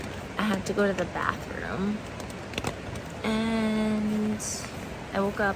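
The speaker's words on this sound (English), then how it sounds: "it's been raining on and off all night." Rain falls through the night on a flooded stretch of the Foothills Trail along the Chattooga, a steady soft hiss beneath a person talking close by.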